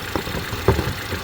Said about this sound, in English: Engine sound is good, so that is all gone.